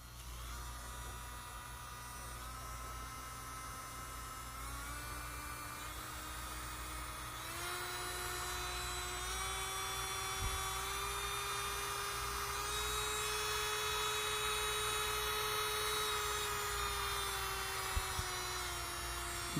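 An Amazon electric nail drill whines steadily at close range, its pitch rising in gradual steps as the speed is turned up from around 3,000, smooth and continuous with no talking.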